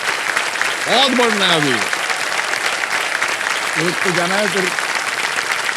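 Studio audience applause fills a game-show set for Kaun Banega Crorepati, a steady wash of clapping running beneath a host talking throughout.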